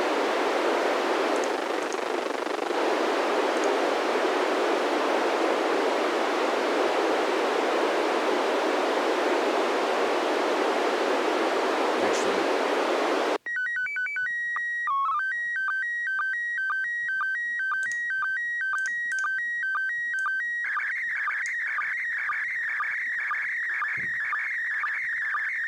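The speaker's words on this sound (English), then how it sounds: "This shows you how powerful the ISS transmissions are because it overpowers the noise. Here comes the transmission." Radio hiss fills the first half, then an SSTV image transmission from the International Space Station takes over with loud, clean warbling tones, rapid chirps and steady pitch steps repeating in a rhythmic pattern until the end, with no voices.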